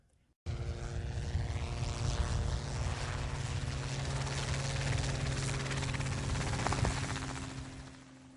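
A helicopter in an autorotation glide, with loud, steady rotor thump and engine roar that starts abruptly, holds constant for several seconds, then slowly fades near the end.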